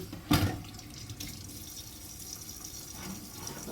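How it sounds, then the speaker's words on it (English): Hands are rinsed under a running kitchen sink tap while cooking shrimp tacos, starting with a sharp splash, then a steady close wash of flowing water with a faint trickle underneath. "Rinse this off right quick. Put this in the sink. Rinse my hands off."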